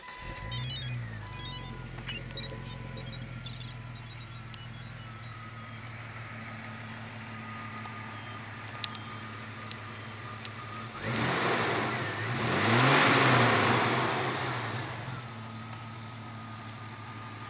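A 2000 Jeep Cherokee 4x4 engine running near the listener with a steady mechanical hum, then surging into a loud rev that swells and falls back to a smooth idle.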